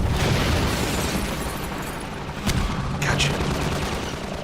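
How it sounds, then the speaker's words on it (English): A Half-Life 2 rocket launcher shot detonates as a sharp burst, followed by a smaller second pop, over a continuous noisy battle backdrop, loud and fairly near. "Last rocket, gotta make it count."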